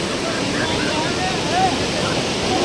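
Water rushes out under strong pressure at a village bathing spot, a steady loud broadband roar that fills the whole clip without pause.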